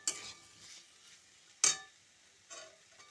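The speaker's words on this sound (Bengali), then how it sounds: "পেঁপে, আলু আর ছোলাটা আলাদা করে ভাজতে হবে না, একসাথে আমি দিয়ে মশলাটার সাথে দিয়ে ভেজে নিচ্ছি নেড়ে চেড়ে।" Papaya, potato and chickpeas stirred together with spices in a pan, a few scraping, clattering spoon strokes against the pan at intervals over a faint sizzle, close by.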